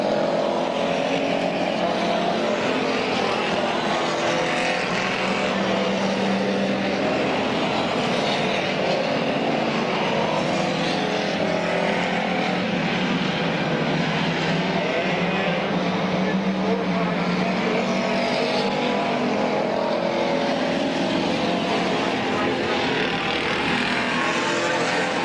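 Race cars roaring continuously around Midvale Speedway oval, a dense, loud wall of engine noise from a pack of cars sustained throughout, with a commentator talking over it.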